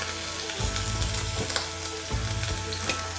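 Ginger sizzling and frying in hot olive oil in a pan, a loud steady crackle with stirring scrapes recurring through it.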